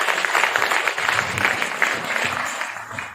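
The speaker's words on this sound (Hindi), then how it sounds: "एक बार जोरदार ताली" Loud, steady applause fills a training session for a business team, dense clapping running throughout without pause.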